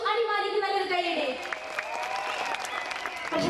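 Audience applause at a live stage show for a keyboard player, a steady wash of clapping under a voice and sustained musical tones, with sharper claps near the end.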